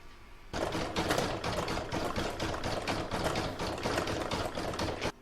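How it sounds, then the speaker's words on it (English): A home embroidery machine stitches the centre of a poinsettia flower design on a coaster, running at a steady fast needle rhythm, loud and close, with no talking. "So I'm now going to stitch colour number 8, which is the centre of my flower."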